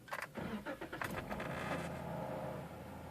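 A 2012 Jeep Wrangler 3.6L Pentastar V6 cranks with a few quick starter bursts, then catches and settles into a steady idle hum after a brief rev, close and fairly quiet.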